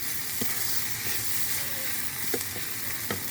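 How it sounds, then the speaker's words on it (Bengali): Dried hilsa fish frying with chopped onion in a pan, a steady close sizzle with a few soft stirring knocks. "হালকাভাবে ভেজে নেব।"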